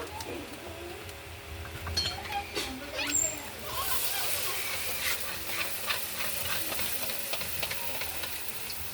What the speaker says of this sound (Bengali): দেখো বন্ধুরা কীভাবে ফুচকা ভাজা হচ্ছে।